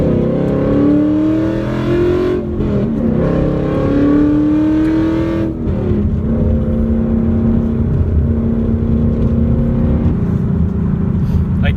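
A car with a damaged muffler, tailpipe and S-pipe runs loudly close by, its raspy exhaust drone rising and falling with several revs before settling into a rough, steady roar.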